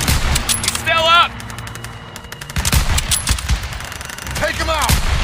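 Machine-gun and rifle fire in a WWII video game battle at Marigny, France, 1944: rapid, loud bursts of automatic fire in clustered volleys, with soldiers shouting between and over the shots.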